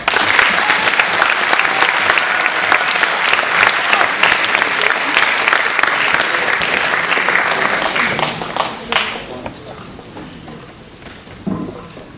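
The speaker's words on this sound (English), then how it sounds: "Give yourself a big round of applause." A large crowd applauds loudly and steadily for several seconds, then the clapping thins out and fades to scattered claps near the end.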